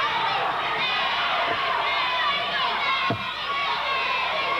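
Wrestling crowd at a 1987 IWA Carolinas show shouting and jeering at the Dirty White Boy, a dense, steady roar of many voices filling the arena without pause.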